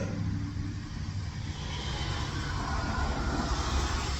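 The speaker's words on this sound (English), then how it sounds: "was pulling his big old truck out" Big old pickup belonging to a landscaping company pulling out across the street, a steady low engine rumble with broadband road and traffic noise holding at a constant level throughout, no voices.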